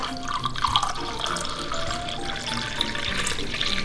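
Filtered drinking water streams from a kitchen tap, a steady close hiss and splash holding evenly throughout with no talk over it.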